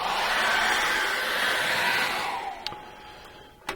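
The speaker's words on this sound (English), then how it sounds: "I'm going to give this a quick dry with a hairdryer now" A hair dryer blows steadily and loudly across a freshly painted acrylic landscape canvas, a continuous whooshing roar that fades out near the end, followed by a couple of small clicks.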